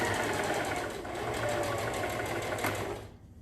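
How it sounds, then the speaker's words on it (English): A sewing machine stitches fabric for a face mask, a fast close rhythmic whirring clatter that runs steadily and then stops abruptly near the end. "sew forward and then back, and then all the way across"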